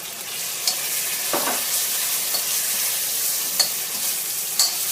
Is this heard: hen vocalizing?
no